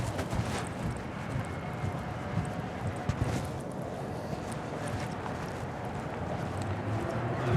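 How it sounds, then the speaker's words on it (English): Wind buffets a lavalier mic hidden under a jacket in a Stockholm town street, a continuous loud low rumble mixed with distant street noise and no clear talking. "Now it's quite windy"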